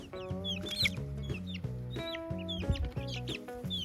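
A young rooster calls loudly and repeatedly, with harsh, strained crowing mixed with clucks and other fowl sounds close by.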